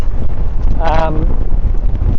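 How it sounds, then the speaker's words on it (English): Strong wind buffets the microphone in a constant low roar, with a brief tonal, voice-like sound partway through. "The gusts are exceeding 30 kilometres an hour"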